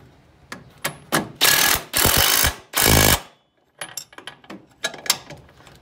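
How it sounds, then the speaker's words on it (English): A 19 mm wrench tightens a ball joint nut on an Opel GT, giving sharp metallic clicks and several loud, rapid ratcheting bursts close by, followed by lighter scattered taps. "Then take a 19 millimeter wrench"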